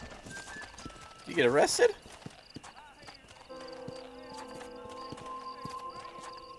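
Horse hooves clop in a steady rhythm while riding in Red Dead Redemption, with a loud neigh early on, someone speaking over the scene and a game music tone running underneath.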